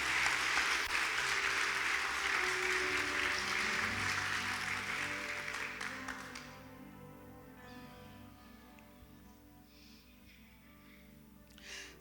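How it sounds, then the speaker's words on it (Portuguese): Church congregation applauding during a Portuguese-language sermon, a loud, dense wash of clapping that holds steady for about six seconds, then fades away as a sustained organ or keyboard tone carries on underneath. "Pode aplaudir Jesus."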